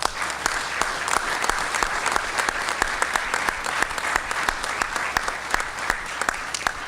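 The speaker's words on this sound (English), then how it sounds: "I think we need to give the entire Walmart family a round of applause" A press-conference audience gives a steady, moderate round of applause, with many hands clapping evenly and individual claps standing out sharply.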